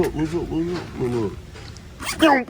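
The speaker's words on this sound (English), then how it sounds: "Little zip" A zipper on a black bag is pulled open in a brief, close rasping burst near the end, after a stretch of voices talking.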